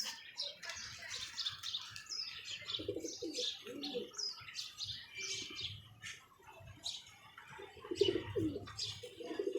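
Chapra pigeons coo in repeated low throaty phrases close by, mixed with busy chirping and tweeting from other birds in the background.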